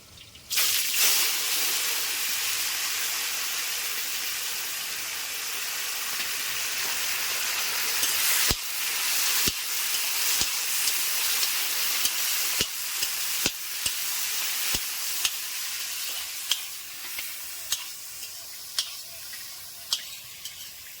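Tomatoes hit hot oil with dried red chillies, five-spice and bay leaf for a chutney, bursting into a loud hiss that slowly settles while sharp stirring clicks repeat toward the end.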